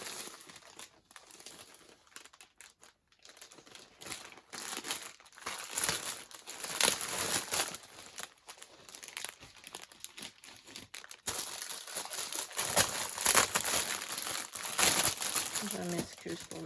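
Plastic packaging crinkles and rustles in bursts while a cross-stitch embroidery kit is unboxed, close and fairly loud, with a person talking in between.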